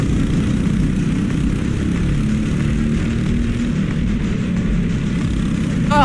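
Small racing kart engines drone continuously during a kart race, a steady buzzing roar with shifting pitch as several karts pass, loud and unbroken throughout.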